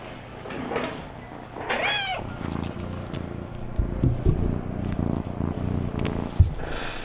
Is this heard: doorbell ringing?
no